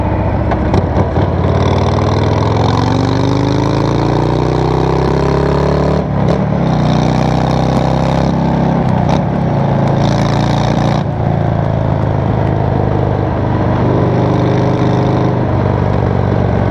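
Harley-Davidson Fat Bob motorcycle riding along at steady cruising speed, its loud continuous engine drone shifting in pitch as it speeds up and eases off, with wind rushing throughout and no voices.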